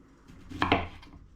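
A knife cuts through a peeled piece of ginger lengthwise, giving a quick double knock against a cutting board, quiet and over in an instant.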